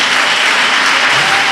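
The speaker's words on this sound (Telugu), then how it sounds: "సంతోషంగా చప్పట్లు కొడదాం." Continuous applause from a church congregation during a Sunday service, dense and steady throughout at close range.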